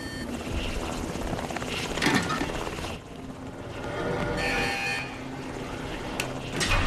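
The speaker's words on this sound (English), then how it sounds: "So, we now have the helicopter at our mercy." Helicopter in the video game Dead Rising 2, a steady rotor and engine drone running throughout at moderate level, with brief bursts of game action and effects layered over it.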